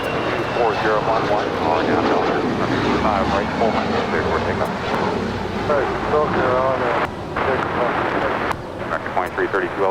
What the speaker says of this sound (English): we've got the Al Al Dreamliner now positioning into place on 25 right